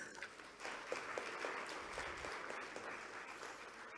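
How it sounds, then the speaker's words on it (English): Applause from a conference audience at a business forum welcoming a speaker to the stage, a steady dense roll of many hands clapping that holds at a moderate level for several seconds. "please do welcome him with warm applause"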